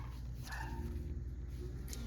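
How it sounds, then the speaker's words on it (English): A dog barks and yips nearby in short bursts, with a faint whimpering edge over a steady low background hum. "look at Bo barking"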